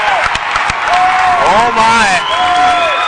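A basketball crowd at a game cheers and roars loudly after a deep three-pointer, with whoops rising over the noise while a commentator exclaims close by.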